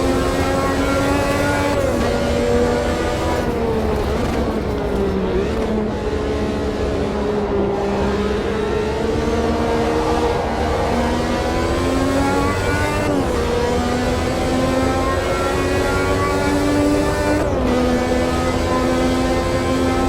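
A 1983 Renault F1 race car, Prost's car, driven around the Austrian Grand Prix circuit, its engine a loud continuous close-up onboard wail that shifts pitch steadily with gear changes and throttle lifts, alone without talk.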